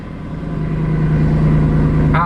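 Salvage Mercedes C63 engine running loud, a deep steady rumble that swells and holds close by, with a brief higher whine near the end.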